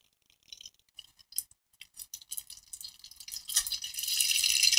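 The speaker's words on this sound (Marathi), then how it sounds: "मोहरी छान तडतडली" Mustard seeds spluttering in hot oil in a pan: scattered sharp pops and crackles that quicken into a dense, continuous sizzle, close and fairly loud.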